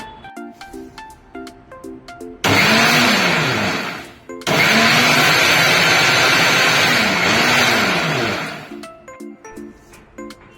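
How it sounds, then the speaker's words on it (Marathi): A kitchen mixer grinder grinds makhana, poha and semolina in two loud whirring bursts, the first short, then a brief pause before a longer run, with quiet plinking background music before and after. "आता आपण मखाणे पोहे आणि रवा थोडंसं मिक्सरवर बारीक करून घेऊया"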